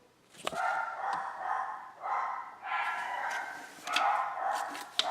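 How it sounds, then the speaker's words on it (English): Several dogs barking and yapping in excited bursts across the whole stretch, fairly close and loud, with brief pauses between volleys. "My dogs are crazy."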